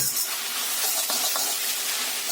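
Egg chicken chowmein frying in a wok with salt and black pepper powder, a loud, even hiss and sizzle with faint stirring scrapes throughout.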